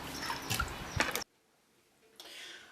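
Water runs and splashes over dried corn during a rinse, a loud burst of pouring and dripping that cuts off abruptly, followed by silence and then a fainter stream of flowing water.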